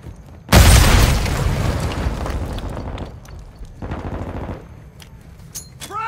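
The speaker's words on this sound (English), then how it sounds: "Stop shooting me!" Gunfire bursts out in a third-person shooter video game set at night: a loud, close boom opens into a dense volley of shots that trails into a rumbling decay. A second, weaker burst follows, and faint voice fragments come in at the end.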